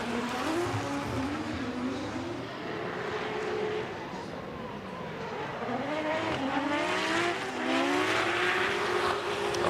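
Drift cars at Okayama International Circuit, a Toyota Supra chasing a BMW E92 in a competition run, with engines revving and wailing as they pass at a distance, under commentary.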